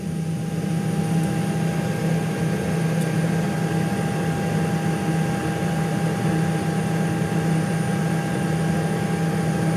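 A steady, even whine and hum from a Boeing 737 MAX engine start runs unbroken at moderate level, with a persistent tonal drone and no voices over it.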